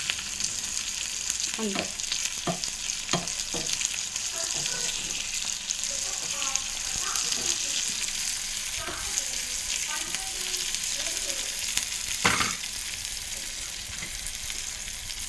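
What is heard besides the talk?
ivy gourd (dondakay) frying in a pan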